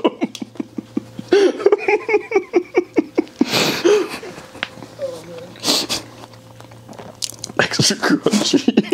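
Loud crunching bites of hard frozen beans, rapid and rhythmic close to the mic, with laughter and talk breaking in between.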